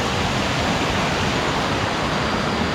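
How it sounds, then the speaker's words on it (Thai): A small waterfall in the mountain village of Mae Kampong, Thailand, in the rainy season, gives a steady, loud, unbroken rush of flowing water close by. "โอ้น้ำตกไหลผ่านเล็ก ๆ อยู่ตรงนี้"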